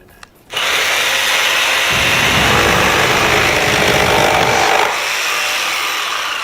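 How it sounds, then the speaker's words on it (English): A power drill starts abruptly and runs continuously for about four seconds at a loud, steady whine, shifting pitch as it bites into material, then winds down slightly but keeps running. "Women and power tools."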